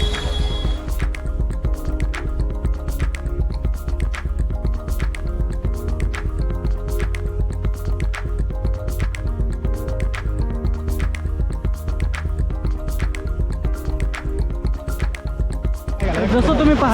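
Continuous splashing of water running down stone steps at a waterfall, with regular dripping taps and a busy crowd of tourists murmuring in the background.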